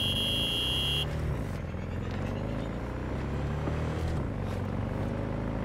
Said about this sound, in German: Wir nehmen ein Motorrad.